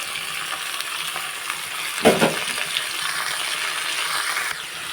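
Pieces of ridge gourd fry in a pan with a steady, fairly loud sizzling hiss and one sharp clatter of a utensil near the middle; no one speaks.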